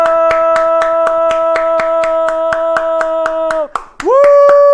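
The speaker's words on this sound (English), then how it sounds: "Thank you, Jack, for clapping" Steady, rhythmic handclaps, roughly fifteen evenly spaced claps, ring out loud and close over a sustained tonal drone that briefly dips and returns.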